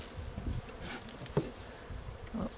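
Honeybees in a rescued late-winter hive make a faint, close-up buzz with a few brief louder flyby swells and light rustling.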